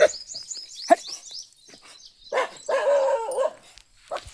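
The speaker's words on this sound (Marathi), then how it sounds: "आंब्याकडून तिकडून कुत्रे बसले बघा" Dogs near a mango tree in a village bark and whimper in short bursts, some close and some farther off, with high bird chirps mixed in and no speech.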